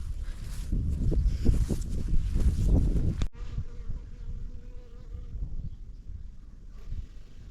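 A dense swarm of honey bees buzzes loudly and close at a hive for a few seconds, then drops to a quieter, steady hum of scattered insects.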